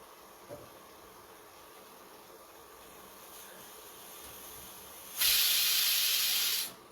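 Steam bursts from a pressure cooker holding Schezwan sauce in one loud, even hiss of about a second and a half, after a long stretch of quiet with a faint tap near the start.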